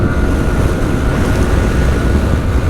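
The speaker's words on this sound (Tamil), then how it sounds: "இப்போ இழுத்தலாம் டாப் ஸ்பீடே இப்போ தாங்க ஓட்டுறேன்." A Yamaha R15M motorcycle runs at top speed, its engine whine buried under loud, roaring wind rush across the microphone, steady and continuous.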